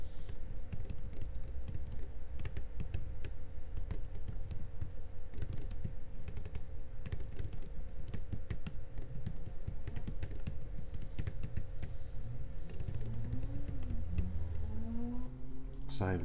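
Keystrokes on a computer keyboard while a note is typed into business software: a steady patter of quick clicks throughout, close, over a constant background hum and with some low noise toward the end.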